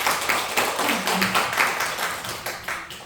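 Members of a church congregation clap to welcome a pastor as he rises to greet them, a moderate patter of hands in a brief burst with a faint voice underneath.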